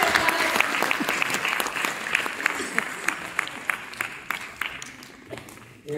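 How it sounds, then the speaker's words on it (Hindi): Loud applause rises from the audience at a Hindi kavi sammelan poetry recital, dense at first and thinning into scattered sharper claps toward the end. "जोरदार ताली हो।"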